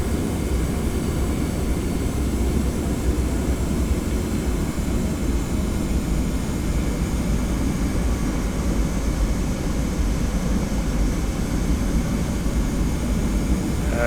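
Constant jet engine drone of a Boeing 717 taxiing in the Prepar3D flight simulator, a steady broadband rumble and whine that holds unbroken throughout with no voices.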